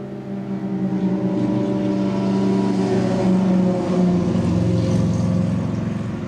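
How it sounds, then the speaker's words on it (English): A loud motorcycle engine drones and revs as it passes close by, building and holding for several seconds before easing off. "Doesn't do me any good to try to shout over a motorcycle."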